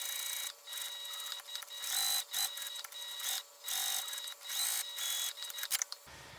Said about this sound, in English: I'm going to go ahead and top stitch and then baste all around this piece